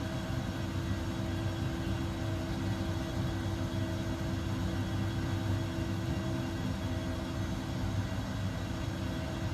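ERJ 145 regional jet in flight in the X-Plane 11 simulator, a steady unbroken engine drone with a deep rumble and broadband roar, even in level and with no talk.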